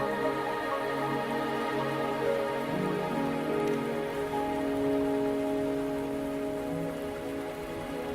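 Rain falls steadily in the video game Wuthering Waves, a constant even hiss of drops at close range with soft sustained music beneath and no speech.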